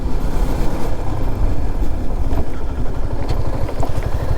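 A Suzuki Gixxer SF 250 motorcycle with stiff suspension rides over a rough, bumpy road. A dense, continuous low rumble of engine and road noise runs throughout, close and loud, with no talking.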